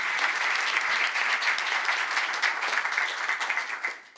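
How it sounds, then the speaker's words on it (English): An audience at a women's club round-table session gives a round of applause, dense steady clapping at moderate distance that tapers off near the end. "So a round of applause for that."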